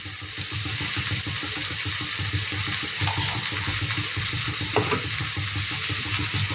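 Vegetables for winter khichuri hiss and sizzle in a hot pan, stirred with a steady scraping rhythm, loud and close with no talking.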